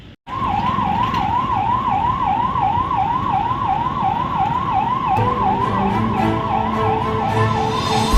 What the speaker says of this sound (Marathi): या अंडरपास बीच जवळ एक रुग्णवाहिका देखील या वाहतूक कोंडीमध्ये अडकलेली आहे